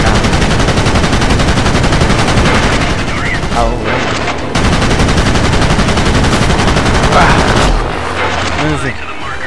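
Warplane guns fire in a game of World of Warplanes, loud dense continuous bursts of rapid machine-gun fire with brief breaks, mixed with engine roar and a voice talking over it.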